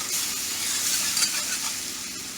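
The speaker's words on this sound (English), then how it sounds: "And stir this mixture." Water stirred into a smothered steak mixture sizzling in a pan, a continuous bubbling hiss with soft spoon scrapes, close and steady for a couple of seconds.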